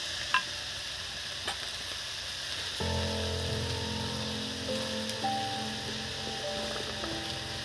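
Slit green chilies dropped into a pan of frying brinjal and egg, producing a steady, close crackling sizzle throughout, with a low tonal hum joining partway through.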